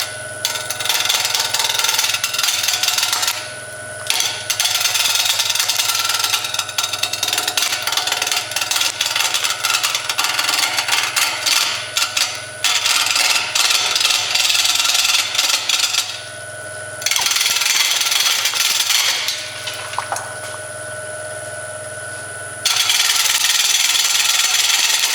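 A wood lathe spins a leftover bowl blank with jagged edges while a gouge cleans up the end, giving a loud steady motor hum under harsh scraping bursts that stop and restart several times.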